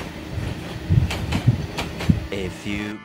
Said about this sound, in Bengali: আমার দীর্ঘদিনের ইচ্ছে ছিল ট্রেনের ইঞ্জিনে চড়ে ভ্রমণ করা